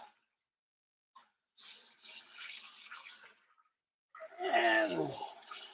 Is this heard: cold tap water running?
yes